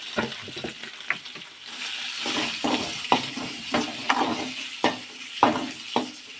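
Halved boiled eggs fry in an oily pan, giving a continuous sizzle marked by sharp crackles and spatters at irregular intervals, close up with no talking.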